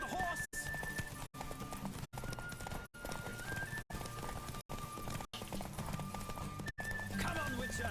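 Horse galloping in The Witcher 3, steady rhythmic clip-clop hoofbeats running throughout with a whinny near the end, set against game music and periodic brief dropouts.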